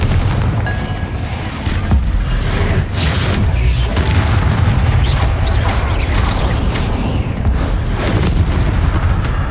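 Confringo fire spells in the video game Hogwarts Legacy go off as booming explosions inside a tomb. They come as a dense, continuous barrage of loud blasts and crackling debris, with no speech.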